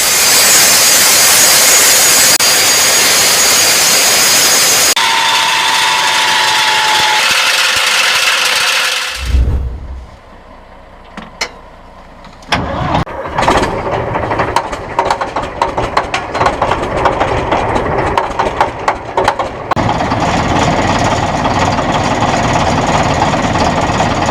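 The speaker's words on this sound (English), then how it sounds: "The video captures a classic damp start of the Rolls-Royce RB211" Rolls-Royce RB211 turbofan jet engine from a Boeing 747 on a damp cold start, a loud broadband roar and whine that drops briefly to near quiet, then rebuilds into a rough, rising rumble as the engine spools up.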